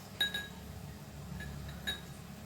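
Empty drinking glasses are set down on a table, giving a few faint, bright clinks with long pauses between them.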